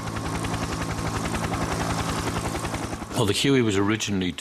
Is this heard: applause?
no